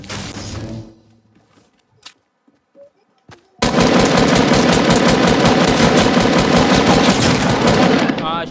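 Gunfire in Fortnite Battle Royale: a brief loud burst, near silence with a few isolated sharp shots, then a sustained rapid barrage of loud rattling fire lasting several seconds. A voice is heard briefly at the start.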